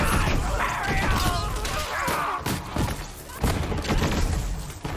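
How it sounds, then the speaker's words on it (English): Maliwan shotgun in Borderlands 3 fires bursts of six elemental orbs with no charge-up, giving dense, loud overlapping blasts, thuds and crackling impacts that run continuously with repeated sharp hits throughout. "When you shoot it, it will fire six elemental orbs in a burst with no charge up time at all"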